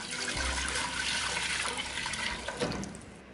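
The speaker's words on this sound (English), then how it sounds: "So here is my pot. I am just going to add in some water." Water is poured steadily into a cooking pot for a ham recipe, a continuous splashing gush that runs for a few seconds with no talking.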